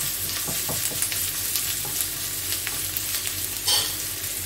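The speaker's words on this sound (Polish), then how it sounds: "szpinak i to wszystko jeszcze ze sobą smażę przez chwilę, żeby po prostu szpinak również się podsmażył." Steady, bright sizzling of spinach frying in a pan, with occasional scraping stir sounds and small pops throughout.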